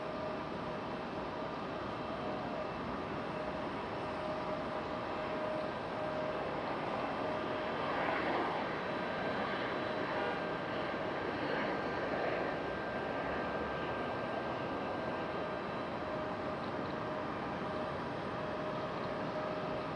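A JetBlue jet airliner at Raleigh-Durham International Airport gives a steady, broad engine roar that holds for twenty seconds at moderate distance, swelling slightly midway, with no talk.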